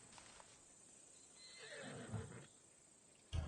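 A horse in the video game Assassin's Creed Odyssey gives a single drawn-out whinny over quiet ambience, fairly soft and at moderate distance, followed by a brief thump at the end.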